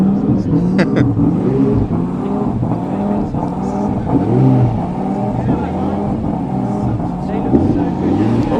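A Lamborghini Gallardo engine is cold-revved up and down repeatedly at close range at a car show, with voices talking over the roar.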